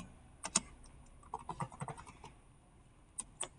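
An IP address being typed on a computer keyboard, sparse quiet key clicks in short irregular clusters with gaps between, close but faint, no talk.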